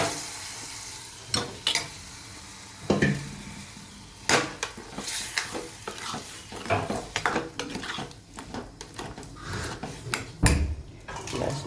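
Moong beans go into cooked masala in a pan with a soft sizzle, and a spoon clatters and scrapes against the metal. The irregular clinks and stirring sound close, with no talk.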